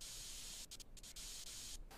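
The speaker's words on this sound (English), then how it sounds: "Just spray paint the dust filters." Spray painting of PC case dust filters in the video game PC Building Simulator 2: a steady, faint airy hiss of an aerosol can, broken by a few brief gaps, with no talk.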